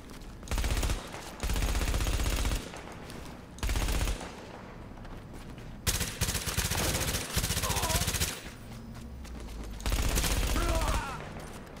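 Sniper and automatic gunfire in The Division, a co-op shooter game set in the Dark Zone, coming as loud bursts and sustained volleys with pauses between, while players talk over the action.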